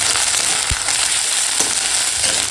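Ground spice paste with onion and ginger hits hot oil over tempered whole spices and sizzles loudly and steadily, with a dense broadband crackle and a few sharp pops and scrapes along the way.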